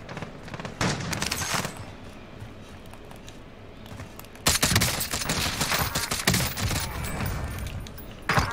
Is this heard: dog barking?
no